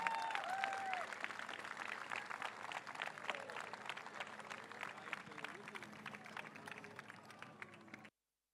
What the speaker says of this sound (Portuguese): Um grande aplauso para a marcha de Carvalhais e Candale